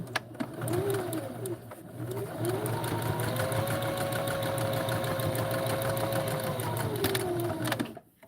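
A sewing machine running a top stitch with an 1/8 inch presser foot while sewing a bag, a steady mechanical whirring hum held for several seconds close by, with faint talk at the start.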